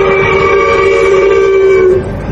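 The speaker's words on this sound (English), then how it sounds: "There's that train." A train sounds its horn in one loud, sustained, steady blast lasting about two seconds, near and alone, before it cuts off.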